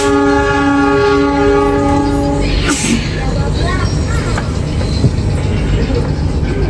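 Executive-class passenger train in Indonesia, a loud horn blast fading into the rumble and rattle of the moving train, with a brief rising whine and steady track noise, heard from nearby.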